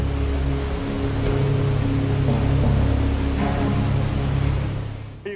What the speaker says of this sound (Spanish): el sonido de una de las cascadas más ruidosas y espectaculares de los Alpes, las cataratas de Trummelbach